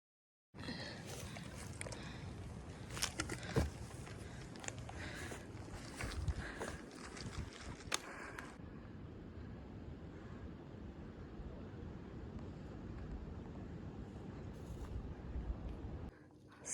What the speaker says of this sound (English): it's getting real chilly up here. It's real windy.